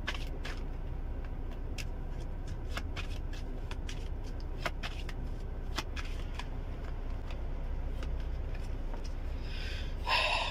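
Quick riffling bursts of cards shuffled several times in a row, crisp and close, over a low steady background hum.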